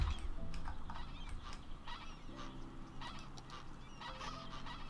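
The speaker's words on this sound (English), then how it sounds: "Are these flamingo sounds?" Flamingo flock calling in the Cities: Skylines city-building game, a faint, steady chorus of nasal goose-like honks and squawks overlapping in the background.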